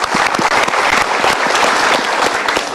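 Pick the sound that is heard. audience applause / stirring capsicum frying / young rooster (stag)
audience applause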